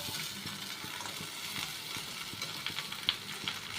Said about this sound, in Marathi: आता सगळं मिक्स करून घ्यायचं